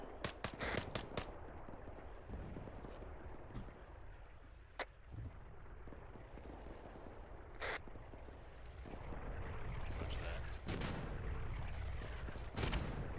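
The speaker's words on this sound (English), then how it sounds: "More Mortars." Mortar fire in the military shooter Arma 3, a series of sharp, booming impacts spread across the stretch, with a heavier cluster near the start and more blasts later, over a steady rumbling battlefield background.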